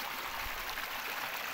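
A small waterfall in dense forest pours into a stream, giving a steady, soft rushing hiss of flowing water for a brief moment, heard alone.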